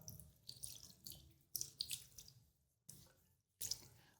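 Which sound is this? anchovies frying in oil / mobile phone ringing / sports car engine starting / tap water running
tap water running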